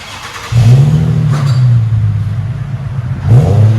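A 2006 Infiniti G35 with a dual exhaust and muffler delete revs up loudly close by, its deep rumble swelling and holding steady before a second throttle blip near the end, with no voices.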